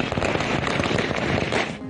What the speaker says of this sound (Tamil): அக்கட்சி தொண்டர்கள் பட்டாசுகளை வெடித்து இனிப்பு வழங்கி கொண்டாடினர்